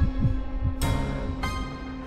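A heartbeat sound effect thumps in a slow double-beat rhythm, deep and close, over a sustained eerie drone, with two sharp bright hits cutting in partway through.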